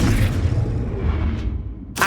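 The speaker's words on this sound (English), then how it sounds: "Arresto Momentum." Arresto Momentum spell effect in the video game Hogwarts Legacy, a low rumbling boom with a soft whooshing sweep, ending in a sharp bright burst.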